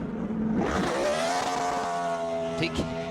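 A NASCAR Sprint Cup race car engine revs up during a burnout at Auto Club Speedway and holds a loud, rising roar with a high droning whine, close by and continuous.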